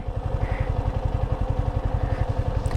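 A motorcycle rides through a hill landslide zone in Ruma, Bandarban, its engine putting out a steady, rhythmic low thrum close by, with no voices over it.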